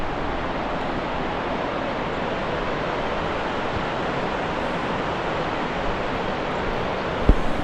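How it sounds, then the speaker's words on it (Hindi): The Bhagirathi river rushes somewhere below, a constant broad roar of moving water that holds steady throughout, with one small knock near the end and no one speaking. "भागीरथी जो नदी है ना, वो बहुत शोर करती है"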